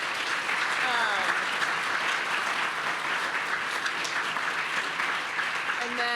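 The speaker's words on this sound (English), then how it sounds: "if we can give them a round of applause" An audience at a climate action alumni panel applauds the panel speakers, steady dense clapping that carries on for the whole stretch at an even level, with a few faint voices mixed in.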